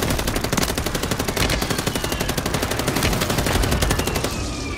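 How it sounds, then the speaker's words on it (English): Rapid, sustained machine gun fire from a video game firefight, loud and close, with rhythmic bursts running almost continuously for several seconds before thinning slightly at the end. "Get that gun shooting over there."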